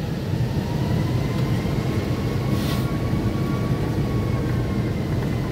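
Airplane taking off at an airport, a steady, loud broadband jet roar with a rising whine, heard continuously from inside a nearby plane or terminal, with no talking.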